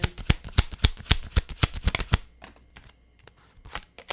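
Tarot cards are shuffled up close in a fast, loud riffle of crisp flicks, then handled more softly with a few quieter slaps and rustles.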